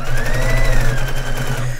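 A heavy-duty sewing machine stitches a dog bed in a steady, loud, fast mechanical whir, close and continuous, alone.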